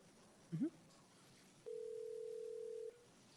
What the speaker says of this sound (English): Our next speaker is Pablo Calderon by phone.